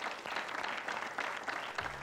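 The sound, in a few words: TV show audience applause for the winners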